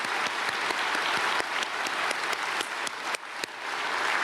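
Church congregation applauding during a Sunday worship service in a large sanctuary, a sustained, dense clapping with sharp individual claps standing out, loud and continuous with no talk.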